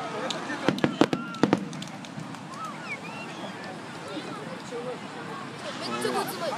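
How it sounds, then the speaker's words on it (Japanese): Fireworks at a summer fireworks festival: a quick cluster of sharp bangs near the start, then faint crackling and distant pops under a murmuring crowd. "花火。"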